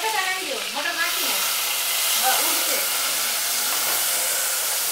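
Peas hitting a hot pan in a home kitchen, a loud, steady broadband sizzle that holds throughout, with a voice faintly audible under it early on.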